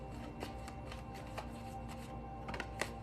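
Tarot cards being shuffled and one drawn, soft papery riffles with a few sharper card snaps near the end, close and quiet with no talking.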